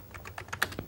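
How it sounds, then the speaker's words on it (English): Quiet, quick keystrokes on a 1992-era computer keyboard, about eight distinct clicks in under a second, close by and with no voices. "I could start just typing some text"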